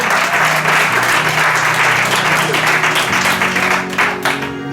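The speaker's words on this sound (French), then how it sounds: "Put your hands together for Jesus." A church congregation breaks into loud, sustained applause for Jesus, dense clapping filling the room for several seconds before tapering slightly at the end.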